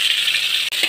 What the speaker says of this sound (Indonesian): Minyak dah panas, masukkan bahan tumbuk.